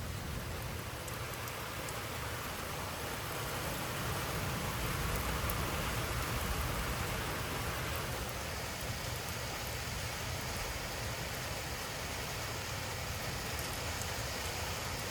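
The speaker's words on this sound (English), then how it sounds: "It's raining pretty hard right now." Heavy thunderstorm rain pours steadily in Frisco, Texas, a dense, unbroken hiss of drops hitting surfaces close by, with no thunder or voices standing out.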